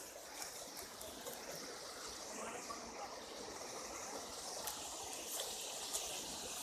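Tunki waterfall pours in a steady, faint rush of flowing water heard from a distance, with a continuous even hiss and no talking.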